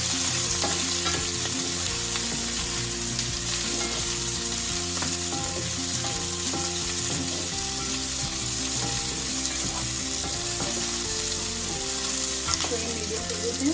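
Bell pepper and capsicum pieces for soya chilli frying hard in a pan, a loud continuous sizzle with the clatter and scrape of steady stirring throughout, close and without voices.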